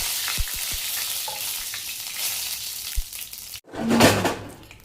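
Whole spices and a bay leaf hit hot oil for potato kurma, a loud steady sizzling hiss with a few small knocks, then a brief gap before a fresh burst of crackling spatter.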